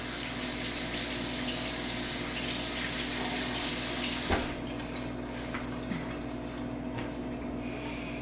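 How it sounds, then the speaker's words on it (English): Tap water runs steadily into a kitchen sink as hands are washed beneath it, a continuous broadband rush that drops in level partway through before carrying on more softly to the end. "I gotta wash my hands now."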